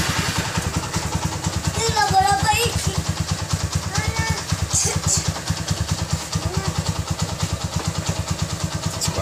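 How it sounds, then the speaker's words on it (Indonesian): A Honda Mega Pro Primus motorcycle engine, close to ten years old, runs at a steady idle with a rapid, even low thrum and light mechanical clatter, while someone talks over it in the middle. "suara mesin masih oke."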